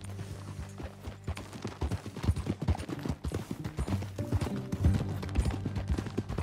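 In a western video game, a horse is ridden along with rapid, rhythmic clip-clopping hoofbeats, close and fairly loud, continuing throughout with no speech over them.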